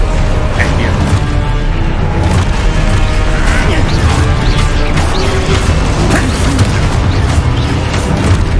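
Spell-casting explosions in Hogwarts Legacy, dense booms, crashes and magical bursts layered continuously at loud level, with a voice shouting spell names over the chaos.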